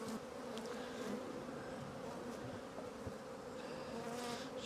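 Honeybees hum in a dense, steady buzz around an open hive during a vertical split, close and continuous with no voices.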